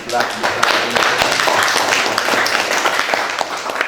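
Short burst of classroom applause for a student, Bagas, after his presentation at Universitas Negeri Yogyakarta, dense clapping from a group lasting a few seconds, with voices mixed underneath.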